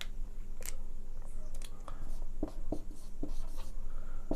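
A pen scratching across paper close up, with irregular short strokes and taps, set against faint steady room noise and no voices.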